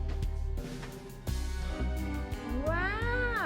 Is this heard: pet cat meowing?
yes